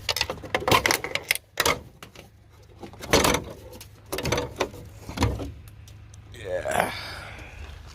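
Close ratchet clicks come in short bursts while a bolt is worked out of a 1976 Chevy El Camino dash, with people talking between the bursts.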